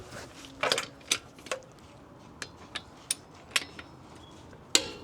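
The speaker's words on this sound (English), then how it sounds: "And now let's just double check with our torque wrench how good it does." A torque wrench checking bolt torque gives sharp metallic clicks, about ten spaced irregularly and close to the microphone, against a quiet workshop background.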